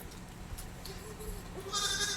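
A group of six goats, two bucks and four does, on a Kerala farm; a faint bleat rises near the end over low rustling background noise, with no talk.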